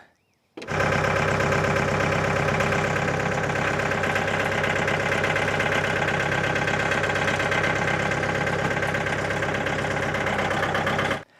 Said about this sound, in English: Maybe I gotta push them in with the tractor.